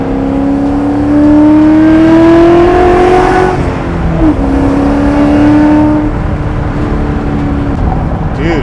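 A Coyote V8 in a widebody Foxbody Mustang pro-touring build revving hard, loud rising engine pitch that climbs, dips and holds, with a voice briefly heard over it.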